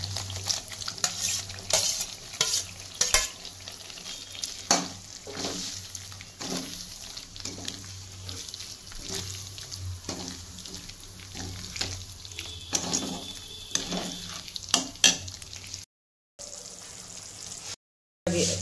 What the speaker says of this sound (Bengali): এখন আমি ঝিঙ্গাটাকে ছেড়ে দেবো।